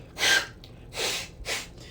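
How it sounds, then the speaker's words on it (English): A person blows their nose in three forceful bursts of breathy, nasal air, close and fairly loud, with short pauses between them and no talking. "I had to fucking blow my nose."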